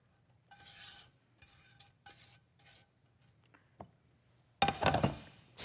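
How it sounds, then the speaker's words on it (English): Spoon stirring a chocolate and sugar mixture into flour in a bowl, close and quiet: a few short scraping strokes with pauses, then a louder, busier burst of scraping and clinking at the end. "Stir that together."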